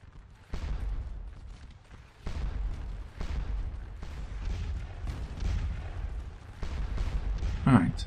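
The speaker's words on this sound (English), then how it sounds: "But now we've got some artillery firing," Artillery fires in Scourge of War: Waterloo at the Quatre Bras battle, a series of distant booming cannon shots, roughly six spaced a second or so apart, each rolling into a rumble, with someone talking over them.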